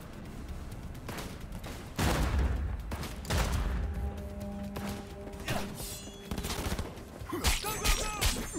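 Bursts of gunfire and crashing impacts in the video game Cyberpunk 2077, scattered sharp shots and clattering hits at moderate level with a few mechanical tones in between.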